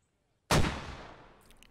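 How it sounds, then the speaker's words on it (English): A single Russian mortar round from the Squad video game bursts loudly after a brief silence, its boom trailing off into a long rumbling decay, with faint high ringing near the end. "More Russian mortars coming out here."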